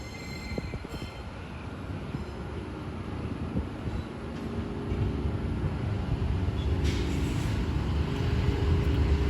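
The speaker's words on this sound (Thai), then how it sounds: "กำลังเลื้อยเข้ามาเรื่อยๆนะครับขบวน 39" Train No. 39 from Krung Thep Aphiwat Central Terminal, hauled by a Daewoo diesel locomotive No. 2533, rolls slowly into platform 3 at Surat Thani station with a loud, steady engine rumble and wheel noise that builds as it approaches.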